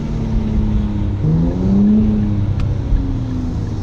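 A sports car engine revs nearby, a loud steady growl that rises in pitch through a couple of throttle blips before settling back to a strong idle hum.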